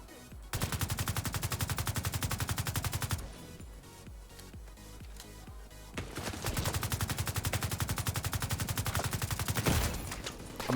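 Rapid automatic gunfire in The Division 2 shooter game, two long loud bursts of fast rhythmic shots separated by a few seconds of scattered impacts and clatter, close and continuous.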